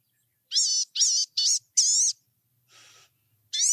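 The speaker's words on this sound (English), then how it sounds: "their call is kind of a whiny, wheezy two-note call" Several short, high, wheezy bird calls come in quick succession, each with a rising-falling two-part shape, followed by a softer breathy note and one more call.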